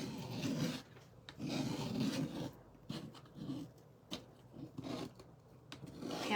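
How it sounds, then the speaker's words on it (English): A scraper tool drags repeatedly across a hard surface, giving a close, raspy scraping sound in rhythmic strokes with short pauses between them and no voices over it. "I know the scraping probably drives somebody crazy"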